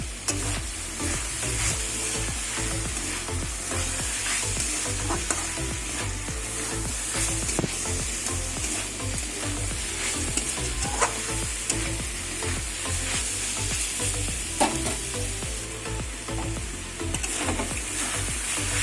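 Thor chorchori, a Bengali banana-stem dish, frying and being stirred in a pan, with a steady continuous sizzle and scraping stir strokes throughout, close up and with no talk.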